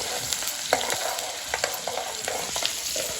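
Cauliflower and peas stir-fry in a pan for a Marathi home-style bhaji, giving a steady close sizzle with repeated scraping and stirring strokes throughout and no talk.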